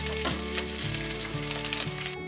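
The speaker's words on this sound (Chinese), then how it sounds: "继续让它煎成金黄色，都煎成焦黄色了" Taro pieces frying in a pan until golden brown, a continuous loud sizzle with crackling bursts and faint stirring, no voices.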